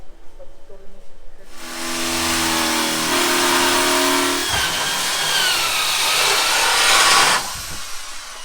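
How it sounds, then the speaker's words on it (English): After a brief quiet moment, a loud power drill whines continuously for several seconds as it bores holes into a steel C-purlin during house construction, then cuts off. "what you're seeing here is the drilling holes in the C-purlin"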